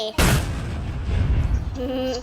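Gunfire in a Roblox shooting game: a sudden loud blast followed by a dense, rumbling stretch of continuous shots, close and heavy, with a faint tonal game sound near the end.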